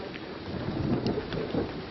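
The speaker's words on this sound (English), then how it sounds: "And it's thundering." Low rumble of thunder rolling through steady heavy jungle rain, the deep roar swelling and fading over a couple of seconds.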